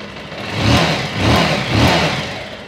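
A Bajaj Pulsar 220 motorcycle with a carburetor misfiring problem revs three times in close succession, each rise and fall loud and rough over a steady idle.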